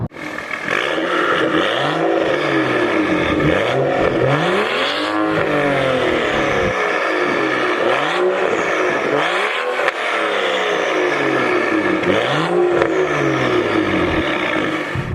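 A BMW 335i Performance Edition engine and exhaust pull hard through the gears, each rising rev sweep ending in a quick shift, loud and close from inside the car, with no voices.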